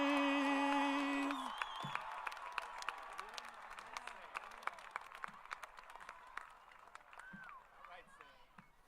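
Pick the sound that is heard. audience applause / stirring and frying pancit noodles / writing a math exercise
audience applause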